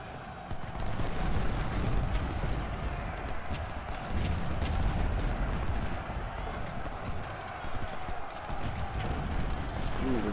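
Massed Civil War artillery roars across the Malvern Hill battlefield in Ultimate General: Civil War, a dense, continuous rumble of cannon fire and battle din without clear separate shots.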